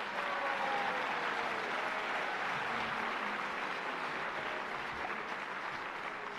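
Steady, fairly distant applause fills a large hall at an evening youth civic assembly, an even wash of clapping with no voices over it.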